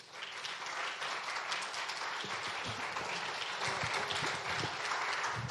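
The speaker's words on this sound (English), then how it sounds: "Please join me in giving a round of applause" Steady audience applause fills a conference hall as a speaker is welcomed to the stage, a dense even clapping that holds at moderate loudness throughout.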